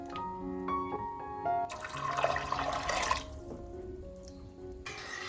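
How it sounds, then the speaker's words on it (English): Water poured from a vessel into a pot of soaked soybeans, a close, steady splashing and gurgling pour building for a few seconds amid light kitchen clatter, then easing off. "And add 3 cups of water."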